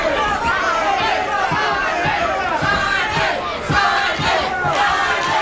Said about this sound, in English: Some of the fans chanting Simon, some chanting Lonnie to cheer on these two boxers.